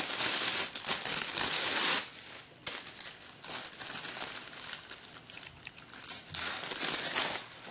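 Tissue paper pattern is torn and pulled away from sewn open-weave doll tights, giving close, crisp crinkling and ripping bursts that come and go in uneven strokes without talk.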